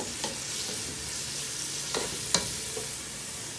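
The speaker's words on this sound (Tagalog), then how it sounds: "Igisa po natin kasama ng pork. Hintayin po natin nating maluto." Pork and hotdog pieces sauté for carbonara in a pan, giving a steady close sizzle with a few soft scrapes of stirring and no talking.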